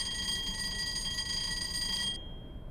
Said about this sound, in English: test the fire alarm